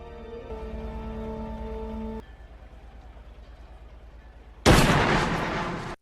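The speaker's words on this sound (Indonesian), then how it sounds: "suara tembakan terdengar dari kejauhan" A sharp, loud burst of gunfire erupts after a steady tonal hum fades, its crack ringing out broadly before cutting off.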